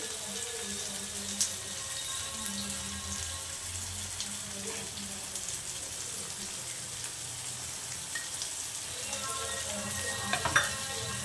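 Oil sizzles and crackles steadily close by as bisi bele bath spice powder fries in a tempering, with occasional light clinks and stirring sounds over the continuous frying hiss.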